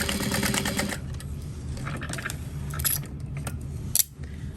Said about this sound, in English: you're gonna sew on that marked line